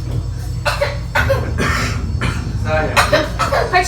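Several harsh coughs in bursts, close and loud, with voices and background noise around them.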